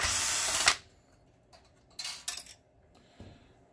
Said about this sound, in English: take the main board out. That's going to be a few machine screws.